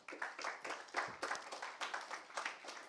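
A live audience applauds three guests invited onstage at an e-retail media conference, dense hand claps rising in rhythmic bursts and continuing steadily throughout.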